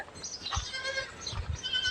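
Goats bleat in a farm shed, a couple of close, wavering bleats from more than one animal over a soft background of rustling and faint low thumps.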